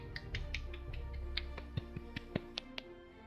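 A single sharp hand clap, heard as a crisp percussive snap among several short tapping transients over a steady low background hum, with no talk alongside.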